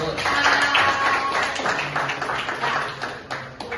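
A classroom of students claps together in an Indonesian language lesson, a short burst of rhythmic clapping with voices mixed in underneath.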